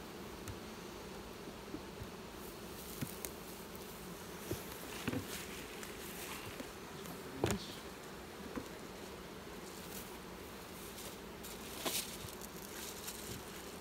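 Dense buzzing of many honey bees swarming around an open hive, a constant drone with scattered louder passes and light knocks, close by.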